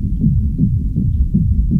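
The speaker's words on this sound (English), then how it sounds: "Next we have some rhythm sound effects," Rhythm sound effect sample from a producer sample pack: a loud, muffled low-end pulse throbbing in a steady repeating pattern, heavy and dull like a pounding heartbeat, with no talk.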